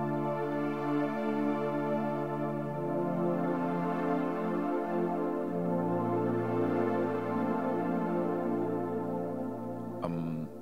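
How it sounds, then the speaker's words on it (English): A warm synth pad from Logic's RetroSynth with its high end EQed out plays sustained, mellow chords that shift a couple of times, ending with a brief click. "you're left with a warm synthesizer that sounds like this"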